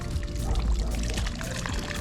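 Water runs steadily from a spout into an old stone livestock trough on a town street in Annweiler am Trifels, Germany, a continuous close splashing pour.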